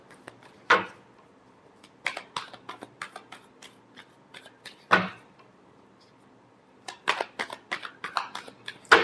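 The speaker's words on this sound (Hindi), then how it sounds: "last shuffle" Tarot cards shuffled by hand: crisp riffling bursts and sharp card slaps in irregular clusters, close and clear, with quiet gaps between them.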